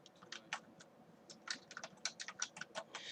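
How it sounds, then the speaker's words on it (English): Typing on a computer keyboard, close and crisp, with irregular clusters of key clicks over quiet background hiss, no talking. "I'm talking and typing at the same time"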